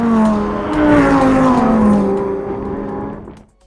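A Lamborghini Huracán STO engine at Willow Springs Raceway in California, a loud, close mechanical drone whose pitch slides gradually lower, then quickly fades away.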